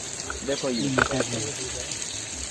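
Water sprays from a hose partly covered by a finger onto raised beds in a multilayer farm, a steady broad hiss running throughout while someone talks close by.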